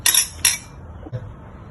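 A knife cuts the knotty bumps off a piece of ginger on a board, giving two quick bright scraping strokes and then a soft dull knock, close and clear with no talking.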